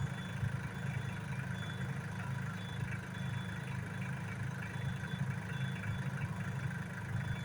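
A Solis 26 minitractor idles steadily with a low, continuous rumble and an even drone, close and unbroken, while it is shifted into reverse. No voices are heard over the engine.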